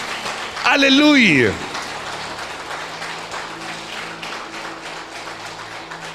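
Church congregation applause, a steady patter of clapping lasting the whole stretch, with a voice briefly calling out over it near the start.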